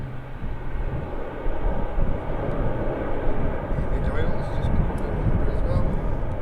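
An airplane touching down on the runway at Manchester Airport gives a steady, loud broadband roar of engines and rolling rumble that swells slightly after the first second and holds throughout, heard from inside or close by.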